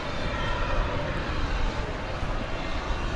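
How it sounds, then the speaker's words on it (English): American Airlines Airbus A321 landing at DFW Airport at night, a broad steady engine roar with constant rumble and hiss, heard from a plane-spotting position with no pauses. "American Flight 2024 coming in from Los Angeles, California"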